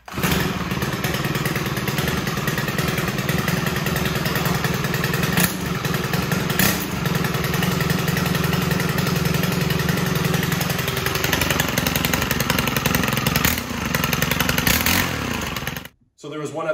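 A Stihl Pro string trimmer's small two-stroke engine runs loud and steady with the throttle locked, its buzzing drone holding nearly constant for about sixteen seconds before cutting out abruptly near the end.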